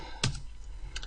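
Computer keyboard typed on while entering a network switch configuration command, a few sharp close key clicks spaced apart over a quiet background.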